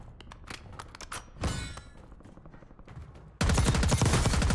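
Bursts of gunfire from a Black Ops 6 Warzone match: scattered shots and thumps give way to a loud, sustained rapid-fire burst at the end.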